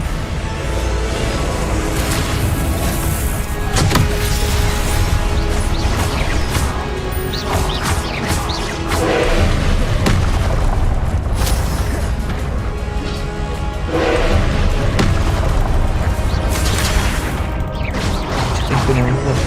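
Spell-casting combat in the game Hogwarts Legacy, with loud repeated magical bursts, crashes and whooshing impacts over a dense, busy soundscape, and brief voices between hits.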